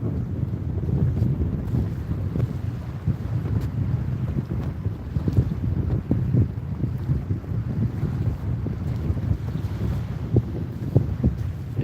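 Steady wind gusts over open saltwater during a cool, breezy fishing outing, a continuous low rumble of wind buffeting the microphone with faint water wash beneath, no voices.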